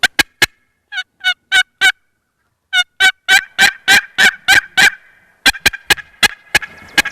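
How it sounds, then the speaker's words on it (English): Wild turkey gobbling during a turkey hunt, a series of loud, close, rattling gobbles in quick bursts, then a pause, then repeated rapid gobble runs across the rest. "If I hear a gobble in the tree,"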